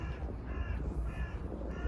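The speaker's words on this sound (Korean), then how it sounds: "여기는 까치가 없어요 까마귀밖에 엄청 많습니다" Crows caw repeatedly in a city setting by a river, the calls sounding moderately distant over steady low background rumble and traffic-like noise.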